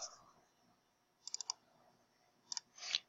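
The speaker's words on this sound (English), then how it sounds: "I'm hitting tab to go from one field to the next quickly." Computer keyboard keys tapped at a desk, a brief cluster of three quick presses, then a pair, then a louder final press, with quiet gaps between and no talking.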